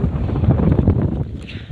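Strong wind buffets the microphone on a mountainside, a loud continuous low rumble that eases slightly toward the end.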